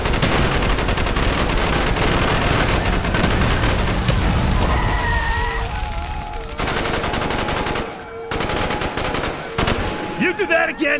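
Heavy automatic gunfire in a Call of Duty Black Ops street battle, dense and rapid for the first half, then thinning into scattered shots and bursts as voices call out over the fighting.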